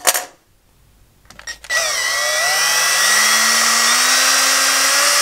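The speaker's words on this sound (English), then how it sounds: "And then just drill your pilot holes." A power drill whines steadily at close range after a brief pause while drilling pilot holes, its pitch holding high and loud for several seconds.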